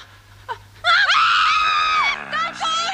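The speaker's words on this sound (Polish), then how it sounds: "Krzycz tak głośniej, jak wam nic nie będzie" Several people scream loudly and close together in a long, wavering wail after a short vocal sound, with overlapping shrill voices sustained for about two seconds.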